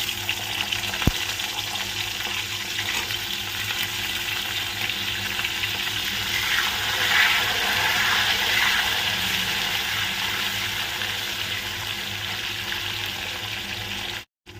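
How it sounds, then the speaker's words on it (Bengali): Potatoes fry in hot oil in a home kitchen, a continuous close broadband sizzle and hiss that holds steady throughout and cuts off abruptly at the end. "এই যে আলুগুলোকে এই তেলের মধ্যে দিয়ে ভেজে নেব"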